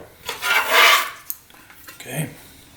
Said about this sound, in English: peel the onion.